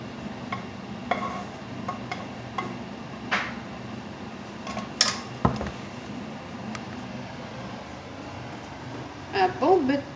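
Dishes and cutlery clinking while Chinese-style beef is served, sparse clicks and taps with a couple of sharper clatters near the end, close and moderate, with someone talking in between.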